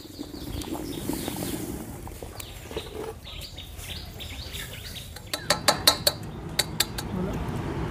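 A pot of boiled duck eggs is lifted off a village-style stove, with a dull background rumble and then a quick run of metallic clinks and knocks near the end, against faint outdoor ambience.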